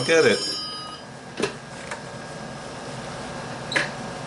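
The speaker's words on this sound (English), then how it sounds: "phone is ringing." A phone rings briefly near the start, followed by a couple of faint clicks and short tones; no talking is heard.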